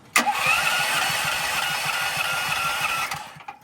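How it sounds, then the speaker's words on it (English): An engine-driven welding machine cranked over and briefly firing, a loud mid-pitched engine burst that cuts in abruptly, runs steadily for about three seconds, then stops. "I'll get the welding machine going"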